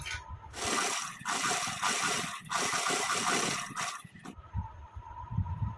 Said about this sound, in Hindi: हमें इसके नेक पर 2 बार स्टिचिंग करनी है।